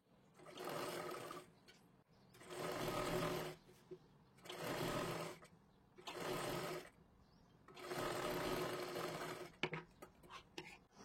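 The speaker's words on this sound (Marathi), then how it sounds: "अशा पद्धतीने इथे पूर्ण शिलाई मारून घ्यायची" A sewing machine stitches the back neck of a blouse in four steady bursts of whirring, each a few seconds long, with short quiet pauses between them and no talking.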